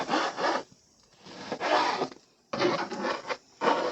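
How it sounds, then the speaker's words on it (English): A knife slices through ham on a cutting board during pasta prep, giving four rasping strokes with short pauses between them, close and fairly loud, with no voices. "We're gonna slice it."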